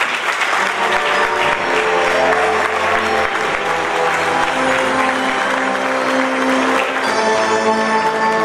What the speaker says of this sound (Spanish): Recibimos con un fuerte aplauso a María Rosa Dariosi.